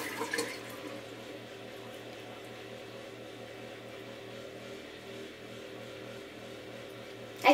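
Tap water running steadily into a sink while a facial scrub is rinsed off at home, a soft continuous hiss and splash throughout, with a brief knock near the start and a clunk at the very end.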